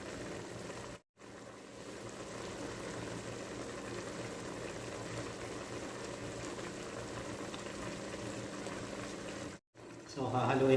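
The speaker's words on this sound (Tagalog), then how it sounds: "Luto na yung ating suka at kulong-kulo na siya." Vinegar for beef adobo boils at a rolling bubble in an uncovered pot, a steady close, moderately loud burble broken by two brief gaps and swelling near the end.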